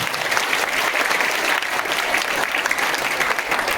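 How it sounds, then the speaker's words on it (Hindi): Students in a classroom give loud, sustained applause, with dense, steady clapping throughout and no pauses. "चलो एक बार जोरदार ताली बजाइए"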